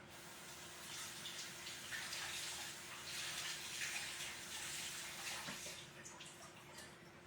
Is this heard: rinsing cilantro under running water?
yes